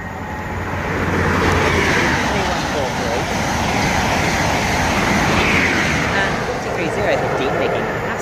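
A Great Western Railway train passes on the Great Western Main Line at Langley, a loud, sustained rumble that swells after the first second and holds steady, with voices talking over it.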